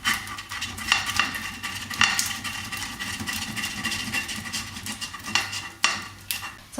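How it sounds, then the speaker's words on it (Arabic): Butter being grated by hand for cookie dough, a continuous rasping scrape with irregular sharper strokes, close and moderately loud, with no voices. "دابا غادي الزبده غادي نحكها باش نسهل عليا منين بغيت نمعكها مع السكر"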